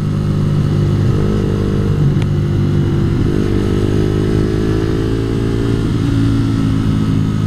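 A motorbike rides along a favourite twisty country road, its engine droning loud and close throughout with steady pitch shifts as it changes speed, accompanied by constant wind rush.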